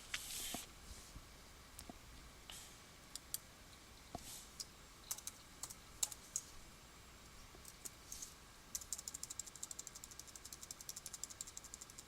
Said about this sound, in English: I will click over here and I will type in the word logo.